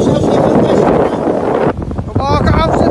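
Strong stormy wind buffets a handheld phone microphone outdoors on the water near Amsterdam, a loud continuous roaring rumble with a brief dip midway, while people talk over it.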